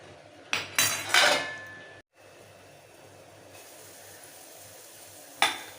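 A spoon clinks and scrapes in a pot while pepper rasam with turmeric and salt in water is stirred, with a few sharp metallic knocks early on and a faint steady simmer underneath.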